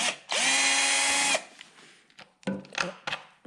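A power driver whirs in one loud, sustained burst while removing screws beside the tank of a Yamaha Super Ténéré 1200 motorcycle, followed by a few short clicks and knocks of tool handling.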